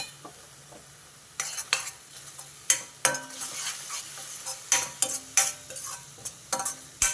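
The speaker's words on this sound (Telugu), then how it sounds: "దీన్ని కొంచెం పచ్చివాసన పోయే వరకు వే వేపుకుంటా" Onion-chili paste with turmeric fries in a pan with a soft continuous sizzle, while a spoon scrapes and stirs it in repeated clinks and scrapes close by, with no talk.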